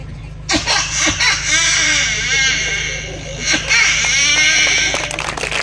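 A performer at a bharud folk performance vocally imitates a crying baby, a wavering, rising and falling wail sustained for several seconds over a low steady hum, close and loud, with the voice itself mimicking the infant's cry.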